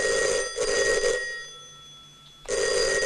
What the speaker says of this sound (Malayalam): ആ ഫോൺ അറ്റൻഡ് ചെയ്യടോ.